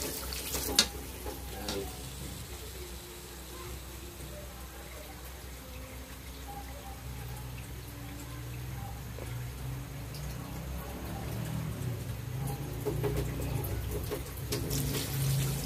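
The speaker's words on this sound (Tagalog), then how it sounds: "Lagyan natin ng tubig." Water runs steadily from a tap into a cooking pot, a continuous splashing gush that grows fuller and louder toward the end as the pot fills.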